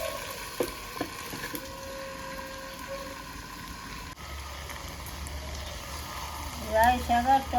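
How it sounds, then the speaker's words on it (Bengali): Mustard greens, tomato and chicken stir-fry in a pot with a low, continuous sizzle and scattered scraping, building to louder stirring bursts near the end; a voice talks over part of it. "রাই শাক আর টমেটো মাংসের মধ্যে দিয়ে 10 মিনিট কষিয়ে নিলাম"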